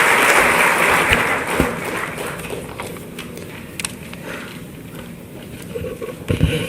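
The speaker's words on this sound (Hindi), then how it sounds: "आप सभी जोरदार तालियों के माध्यम से माननीय का स्वागत करें।" A crowd at a government appointment-letter ceremony claps in welcome for the Chief Minister, a loud, dense burst of applause that thins gradually, with a few sharp knocks near the end.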